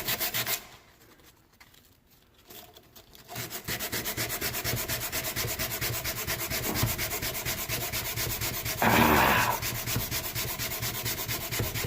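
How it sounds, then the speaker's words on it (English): Sandpaper grinds across a wooden surface to strip off dried glue so it will take stain, a steady close scraping rasp that pauses briefly near the start and then runs on continuously, with no talking. "Got to sand the glue off."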